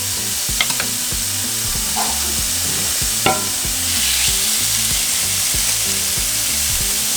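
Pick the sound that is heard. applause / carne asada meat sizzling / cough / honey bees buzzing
carne asada meat sizzling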